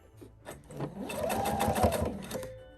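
A sewing machine stitches fabric for a Christmas pillow, its motor running up into a fast, loud, close whirring chatter of the needle that holds for about two seconds before easing off.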